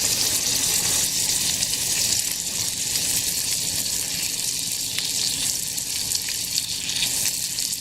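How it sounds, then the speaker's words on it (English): Oregano-topped vegetables for tacos sizzle in a hot pan, a loud, steady crackling hiss that fills the whole stretch with no talking. "And then our veggies are already sizzling."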